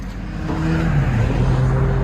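Car with an aftermarket exhaust system, raspy in tone, idling and running steadily at close range, with a low rumbling drone that swells slightly and then holds even for a couple of seconds.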